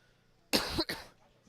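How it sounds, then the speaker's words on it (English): A single sharp cough, close and loud, from a baseball play-by-play announcer during a game, briefly breaking into a quiet broadcast booth. "sorry about that, I had to cough there"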